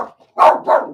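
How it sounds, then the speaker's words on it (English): A dog named Ray barks indoors at noise outside, giving two sharp, loud barks in quick succession after a faint short sound, close by. "Don't bark."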